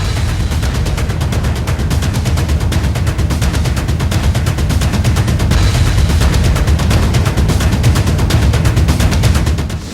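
Dense, continuous bursts of rapid gunfire, loud and close, with heavy booming impacts mixed in throughout, like an intense exchange of fire and shelling between India and Pakistan.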